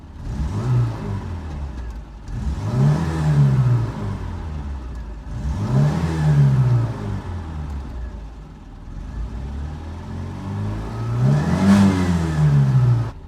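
A Skoda Favorit 136L car engine revs up repeatedly, rising and falling in four or five loud throaty surges over a steady idle, recorded close.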